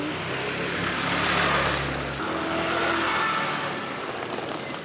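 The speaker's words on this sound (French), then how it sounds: "La voiture veut reculer." A car reversing nearby on a busy road, its engine giving a steady rumbling hum amid broad traffic noise, with trucks around.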